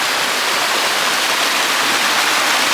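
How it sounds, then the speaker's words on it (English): A small waterfall in a Camden state park, with a close, steady rush of falling water that fills the whole stretch evenly and has no breaks. "There's a little waterfall out here."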